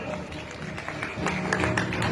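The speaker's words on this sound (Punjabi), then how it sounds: "ਜ਼ੋਰਦਾਰ ਤਾੜੀਆਂ" An audience at an outdoor memorial event with song and speeches breaks into loud clapping and crowd noise, a thick, continuous roar of hands rising slightly toward the end.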